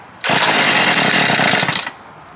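Small engine on a used stump grinder catches and roars to life, running loud and steady up close for about a second and a half before sputtering and dying back down.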